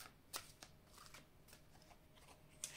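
Tarot cards being shuffled and drawn by hand: quiet papery riffles and flicks, with a few sharper card snaps near the start and end, close and soft, without speech.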